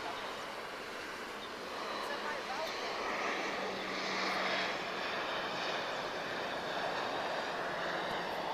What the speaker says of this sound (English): This is an A320 arriving from London Heathrow.